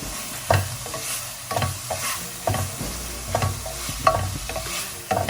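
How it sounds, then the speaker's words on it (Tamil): Tomatoes and vegetables with mushrooms sauté in a pan for veg pasta, a steady low sizzle punctuated by regular scraping strokes of a spoon stirring, close and moderately loud. "தக்காளி சேர்த்துட்டு நல்லா வதக்கிக்கோங்க."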